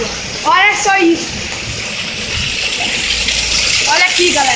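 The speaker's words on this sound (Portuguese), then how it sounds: "hoje choveu muito mais que aquele dia" Heavy rain runoff gushes steadily and loudly close by, a continuous rushing wash of water, with brief bursts of nearby voices or whistling tones at the start and end.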